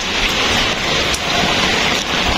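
Steady, dense rain pours down in Manila, a loud, continuous hiss of drops striking surfaces close by, with no voices.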